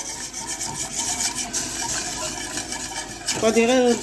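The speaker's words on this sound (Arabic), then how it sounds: "نقعدوا غير نحركو حتى تعقد لنا لا كريم" A spoon stirs egg yolks and lemon juice in a pot for lemon tart cream, giving a steady, close rubbing scrape that runs without a break, with a voice rising over it at the very end.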